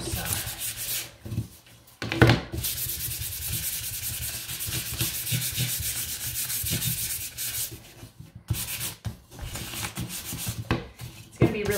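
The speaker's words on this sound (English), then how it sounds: "So I'm gonna go in here and sand it already." Sandpaper rubbing back and forth along the edges of a wooden sign to distress it, a steady close scratchy rasp that runs almost continuously with a few short pauses, no voices over it.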